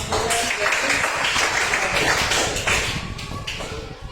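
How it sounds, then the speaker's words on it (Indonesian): A class of schoolchildren claps hands together in a classroom, producing a steady, loud wash of close claps that lasts about four seconds and eases slightly at the end. "Tepuk tangan dulu semua"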